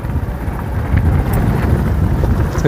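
Strong hilltop wind near Pandav Gufa on an off-road route batters the microphone with a loud, continuous low rumble and gusty roar throughout, with no voices.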